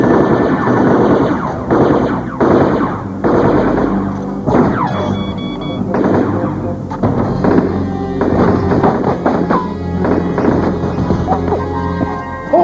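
Gunfire crackles through a woodland Civil War-style reenactment: rapid repeated loud shots and thumping bursts, close by, continuing steadily with some wind buffeting the microphone.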